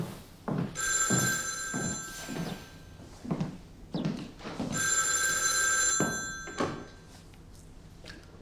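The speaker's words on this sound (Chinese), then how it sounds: "啊，我接一下电话。" An old-style telephone bell rings in two long bursts, with thumps and movement in a room between the rings.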